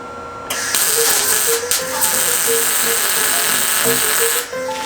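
Exhaust pipe with a glass pack being welded, a loud, steady electric buzz and hiss held close for several seconds, starting and cutting off sharply with a few brief breaks.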